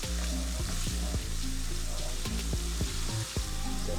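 Tomato puree fries in hot oil in a pan for homemade baked beans, a steady close sizzle broken by a series of sharp scraping stirs and knocks.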